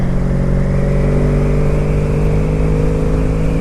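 A Honda Magna Legend motorcycle engine pulls steadily in overdrive, a loud, continuous droning hum with no talk over it.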